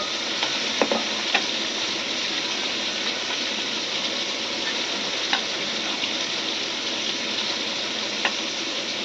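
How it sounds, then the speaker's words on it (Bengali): Ari fish dropped into a boiling curry sizzle steadily in the pot, a continuous close frying hiss with a few brief crackles and pops, no talk. "এখন আমি এখানে মাছগুলো ছাড়বো"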